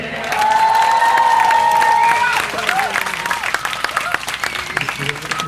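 A festival crowd at the Hengchun Peninsular World Music Festival breaks into loud sustained applause and cheering after a performance, with a shrill whistle rising over it before the clapping thins into scattered claps and voices.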